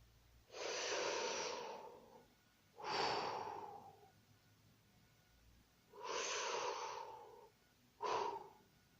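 Heavy, breathy inhales and exhales come in four slow, close, airy gusts with short pauses between them, the last one shorter, with no talking.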